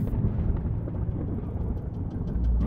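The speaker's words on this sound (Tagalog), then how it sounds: "biglang kumidlat ng malakas at bumuhos ang napakalakas na ulan" Heavy rain pours down steadily as a deep, rolling thunder rumble runs through it, a dense storm wash that swells louder near the end, with no voices.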